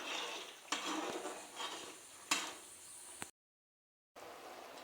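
Macaroni pasta being stirred in a pot with a spoon, clinking and scraping against the metal in a few uneven knocks over a soft bubbling hiss, followed by a brief silence.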